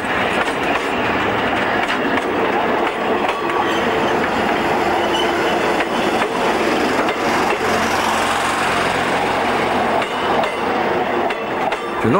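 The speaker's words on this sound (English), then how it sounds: "from on board a steam special as they circle Perth and Fremantle by rail" Steam special train rolling on rails around Perth and Fremantle, Western Australia, heard from on board as a loud, steady rumble with rhythmic clickety-clack of wheels over rail joints throughout.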